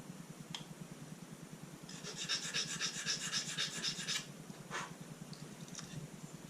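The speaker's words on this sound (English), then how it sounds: "what I like to do is again use the sanding block." Sanding block rubbing across a small 1:28 scale Tiger I tank model wheel, a quiet run of quick rasping back-and-forth strokes lasting about two seconds, with soft breathing and faint handling noises around it.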